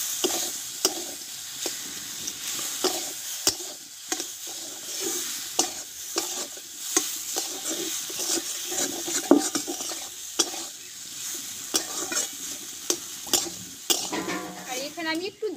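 A spiced mixture of potato and flour with cumin powder, chaat masala and sugar sizzles as it is stir-fried in a pan, with repeated scraping strokes and sharp utensil knocks against the metal.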